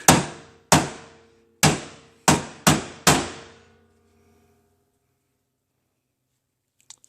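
Six sharp hammer taps land on a 2013 Honda Accord body panel during collision repair, knocking it back into alignment, each a bright ringing metallic strike that decays, in an uneven rhythm, followed by silence and a faint click.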